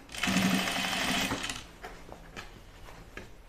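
Domestic sewing machine stitching a seam on dungarees, a fast steady whir for about a second and a half, then it stops and quieter handling sounds follow.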